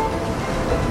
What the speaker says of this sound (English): I did not think there was waves in Dubai.